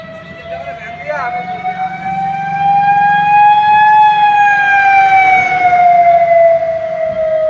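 A VIP convoy vehicle passes during a BJP election campaign procession, its siren wailing in a loud, steady tone that swells as it approaches and holds close by, with faint background noise beneath.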